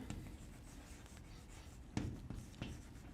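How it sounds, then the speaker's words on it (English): Faint, quiet writing strokes on a board or paper, a handful of short scratchy marks with small pauses between them, alone without talking. "So let me write that."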